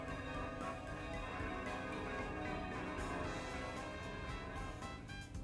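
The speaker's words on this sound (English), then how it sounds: "The bell rang to signal the start of the event" A bell rings out in the visual novel game Princess Evangile, sustained and resonant with a steady, full tone that holds without pause and with no voices over it.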